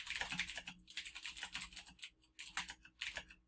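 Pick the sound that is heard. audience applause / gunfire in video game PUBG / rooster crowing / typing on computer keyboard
typing on computer keyboard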